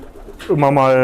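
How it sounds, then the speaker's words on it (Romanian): A racing pigeon gives a short, soft coo, close by, following a moment of quiet background. "Femeia provine din porumbei lui Savu Florin."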